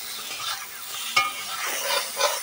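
Eggplant slices fry in oil in a pan, browning to a reddish colour: a steady close sizzle broken by a few sharp scrapes and clacks of stirring, with no voices.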